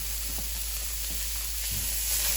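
Shaved garlic and shallots sizzle in three tablespoons of butter in a pan, a steady hissing fry with a few faint stirring taps and no talking.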